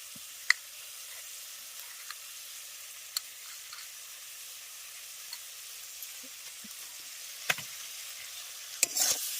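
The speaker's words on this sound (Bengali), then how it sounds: "সর্ষে বাটা দিয়ে ভালো করে আবার এগুলোকে সমস্ত কিছুকে মিশিয়ে নিয়ে একটু ভেজে নেবো" Black and white mustard paste with green chili is fried and mixed with green tomatoes, a faint steady sizzle punctuated by sparse light clicks of stirring, quiet and without talk.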